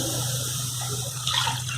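Water poured into a pan of lightly fried onion while making semolina cheese sticks, a loud, continuous rushing splash close by with no talking.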